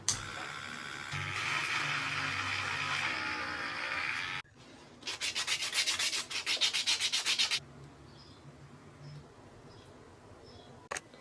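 A small electric nail drill buzzes against fingernails in steady whirring and grinding bursts, with a stretch of rapid pulsing passes before it quiets.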